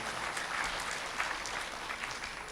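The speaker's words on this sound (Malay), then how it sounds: "kita bagi tepukan kepada penganjur" A seminar audience claps steadily, a dense patter of many hands applauding throughout, with no talking.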